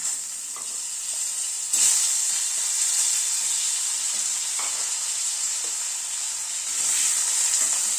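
Long-cut potato sizzles in hot oil with garlic and black cumin, a steady bright frying hiss heard close with a few soft stirring clicks and no talk.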